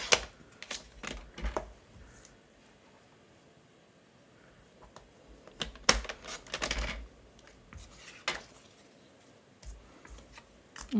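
A paper trimmer cuts cardstock in a papercraft session, giving sharp clicks and slicing swipes in a few short bursts separated by quiet gaps, close up, with no talking.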